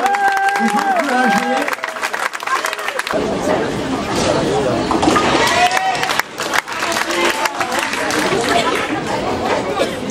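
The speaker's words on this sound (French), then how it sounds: "vous pouvez les applaudir" Audience applause welcoming performers on stage, mixed with a dense crowd hubbub of chatter and some cheering. It starts with a lone voice, then the noise surges at full loudness and stays busy throughout.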